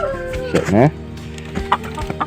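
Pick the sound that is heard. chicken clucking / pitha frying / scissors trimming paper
chicken clucking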